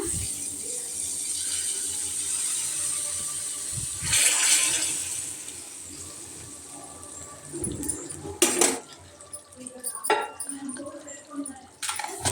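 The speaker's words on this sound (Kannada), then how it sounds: "ಈಗ ಈ ಒಗ್ಗರಣೆನ ನಾವು ಇದಕ್ಕೆ ಹಾಕ್ಕೊಳ್ಳೋಣ." Hot tempering (tadka) is tipped into a tomato curry in a kitchen, with metal clinks of pans and utensils, then a sharp sizzling burst and scattered clattering, heard close with a voice talking at points.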